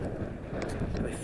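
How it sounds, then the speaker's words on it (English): Strong wind buffets the microphone at a windy campsite, a loud, continuous low rumble that roars without a break through the whole short moment. "this wind ain't giving me no freaking break"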